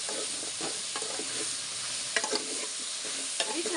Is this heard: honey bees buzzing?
no